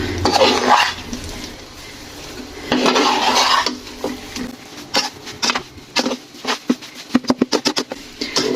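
Chana dal roasts in ghee in a pan as a utensil scrapes and clatters against the metal, with bursts of stirring that quicken into rapid knocks toward the end. No one speaks.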